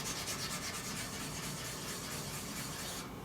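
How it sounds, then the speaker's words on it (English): Bike paint job sanded by hand to remove orange peel, a continuous loud, close abrasive rubbing with a steady rhythmic scratch throughout. "That's the orange peel getting sanded off."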